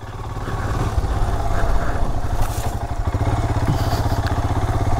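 A Royal Enfield Himalayan motorcycle rides off road, its single-cylinder engine thumping in a steady rapid pulse close by, swelling and easing slightly with throttle, with occasional clatter from rough terrain.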